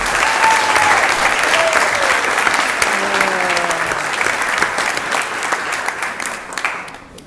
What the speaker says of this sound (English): Let's knock down her door with a round of applause and welcome Ms.